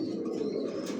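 Big-breed pigeons in a newly bedded loft give a brief, steady cooing murmur, close and fairly soft, with no one speaking.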